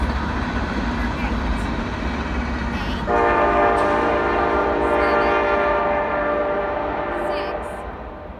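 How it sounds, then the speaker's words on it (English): A train horn sounds a long, loud, sustained blast over the rumble of a passing train, with a person speaking briefly in the clip. "Train is coming."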